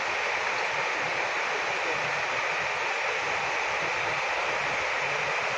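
Rushing water at the top of an autumn waterfall in Ain, France, with a bridge overhead: a steady, dense broadband roar that stays even throughout, close and continuous with no voices.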